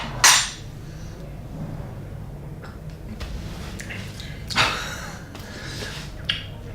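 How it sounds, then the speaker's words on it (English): A spoon clinks against a cup while stirring espresso, giving a few sharp, separate taps spread over several seconds against a quiet room background. "Quick stir."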